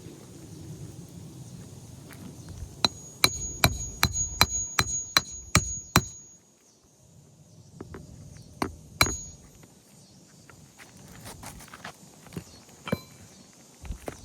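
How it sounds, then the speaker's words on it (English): Hammer striking asphalt roof shingles during a roofing inspection, a rapid run of about ten sharp, fairly faint impacts, followed by a few more scattered knocks over outdoor background noise. "As we're hammering, you can also see the creasing starting to develop as the granules are being taken away due to the reverberations of the hammer"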